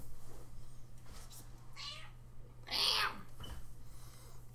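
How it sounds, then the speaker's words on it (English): A cat nearby gives a few meows, quiet at first and then one louder, drawn-out call, all over a low steady hum. "Sorry, there's a cat beneath me."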